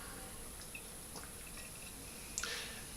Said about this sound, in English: Give it a pour.